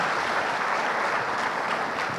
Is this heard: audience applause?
yes